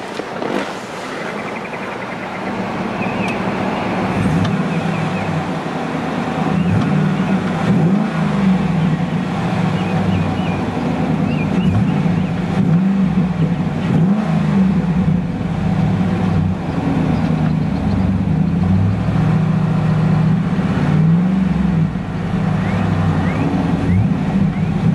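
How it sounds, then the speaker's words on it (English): A 6-liter V8 in a Chevrolet SSR idles with a low burble, then revs repeatedly in short blips, loud and close, holding a steady rumble between throttle bursts. "Let's go ahead and give that big old 6-liter V8 a few revs and see what kind of soundtrack she can produce."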